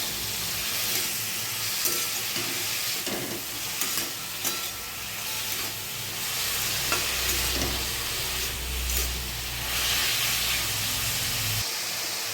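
Radish pieces with turmeric sizzle steadily in a hot pan, a continuous close frying hiss with occasional stirring scrapes and low rumbles, no voices.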